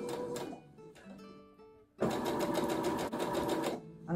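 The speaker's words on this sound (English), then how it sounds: "I'm just going to gently sew as close to the edge as I can" A sewing machine stitches a narrow folded hem along the curved edge of a fabric ruffle, starting with a few short, stop-start bursts and then settling into a loud, continuous run of rapid mechanical chatter.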